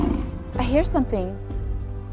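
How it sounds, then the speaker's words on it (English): A Triceratops roar effect from a children's dinosaur cartoon: a loud, close, throaty bellow rising and falling in a few wavering bursts over about a second, ending in a short grunt. "It's a Triceratops."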